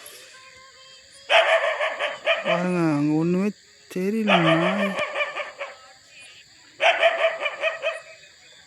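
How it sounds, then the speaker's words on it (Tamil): A dog barks in repeated bursts on a dark night outdoors, with loud clustered yelps separated by pauses and a person speaking anxiously in between, alongside a steady insect-like hum in the background. "நாய் மட்டும் கண்ணு தெரிகிற மாதிரி இருக்குது. குலைச்சினே இருக்குது"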